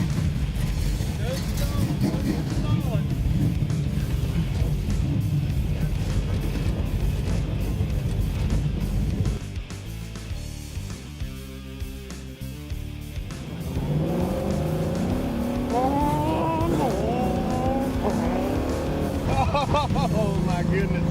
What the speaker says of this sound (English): He is fixing to let me take a ride in my dream car. 68 Camaro Z28.